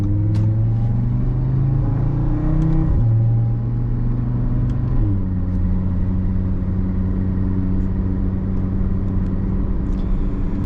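A modified car engine with aftermarket parts holds a loud, steady rumbling drone close by, its pitch stepping up and then down as it revs and settles, with no voices over it.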